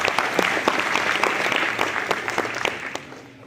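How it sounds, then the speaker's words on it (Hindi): An audience at an International Youth Day talk claps loudly and steadily, a dense round of applause that gradually fades toward the end. "सारे स्पीकर्स के लिए विवेकानंद जी को याद करते हुए एक बार जोरदार तालियां फिर से बजाइए"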